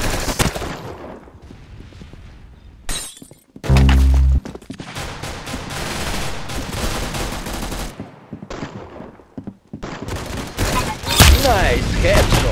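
Video game gunfire in loud, abrupt bursts and single shots, separated by quieter stretches of game ambience, with a heavy blast near the four-second mark.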